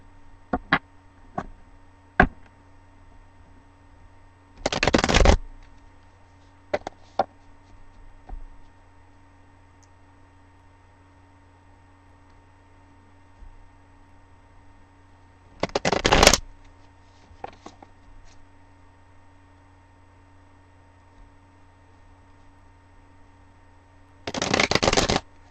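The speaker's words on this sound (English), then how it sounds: "So I'm going to shuffle the deck a little bit more." A tarot deck is riffle-shuffled three times in short, crisp bursts, spaced well apart, with a few soft taps and clicks in the quiet between.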